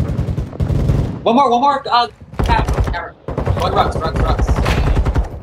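Competitive shooter gameplay with dense bursts of rapid gunfire, loud and close, in several sustained volleys broken by brief gaps, mixed with other game sounds as players talk over it.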